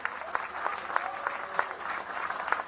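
Crowd clapping at an outdoor political rally in Gyumri, Armenia: a steady, dense wash of applause from many hands with no distinct voices, lasting the whole short stretch at moderate level.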